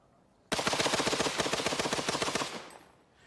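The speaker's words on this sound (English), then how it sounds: "The Maxim sprayed a wall of fire that cut down everything in its path." A Maxim machine gun fires one sustained, loud burst of rapid, evenly spaced shots for about two seconds, then the sound decays into a fading echo with no voices.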